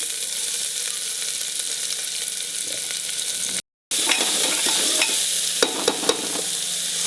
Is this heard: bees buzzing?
no